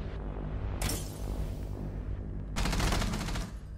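Gunfire from the video game Rainbow Six Siege comes in two rapid bursts of automatic fire, separated by a quieter stretch of low rumbling game sound.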